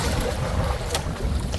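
Strong wind blows across the sea at night with large waves around a small fishing boat, a steady roaring rush close to the microphone with no pauses.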